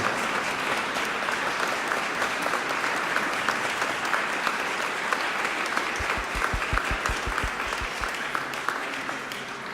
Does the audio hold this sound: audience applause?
yes